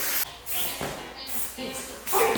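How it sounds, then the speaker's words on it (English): A can of glitter spray hisses in several short bursts, fairly close, with brief pauses between sprays and no talking. "The glitter spray."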